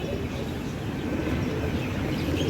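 Soft, low cooing of pigeons close by, a continuous murmuring burble with no talk.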